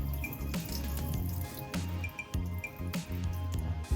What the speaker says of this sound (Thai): ก่อนอื่นเราเทน้ำเกลือ น้ำที่ออกมาจากผักเมื่อกี้ครับ เททิ้งไปก่อนเลย